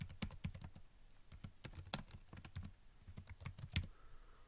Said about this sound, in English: I could type the name of this category